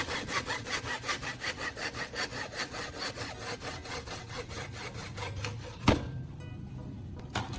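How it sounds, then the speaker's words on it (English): Rapid rhythmic hand sawing through the plastic and metal base of an old LED bulb, close and steady back-and-forth strokes, ending with a sharp clack and a brief quiet pause. "After sawing, I'll remove any remaining plastic from the metal base"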